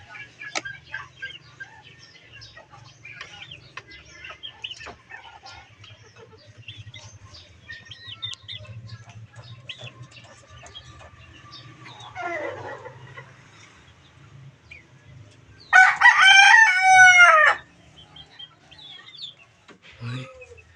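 A hen clucks near her nest as she lays an egg, soft rhythmic clucks building to a loud, close burst of cackling partway through, with faint chirps and low rumble underneath.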